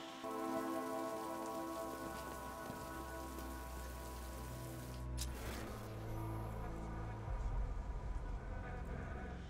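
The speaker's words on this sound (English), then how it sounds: "What's with all the rain?" Steady rain pours across the surface throughout a night scene in the Batman Arkham Knight video game, a dense continuous hiss with a brief sharper burst near the middle, mixed with low background game music and hum.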